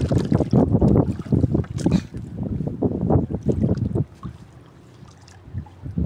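Strong gusts buffet the microphone outdoors on open water while fishing, roaring in waves, then easing to a quieter rush near the end.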